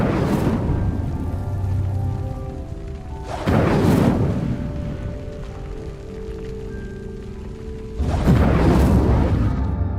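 Fire-spell flames from a wizard video game flare up in three heavy whooshing bursts, each a booming roar that fades slowly, with ringing tonal effects sustained between the blasts.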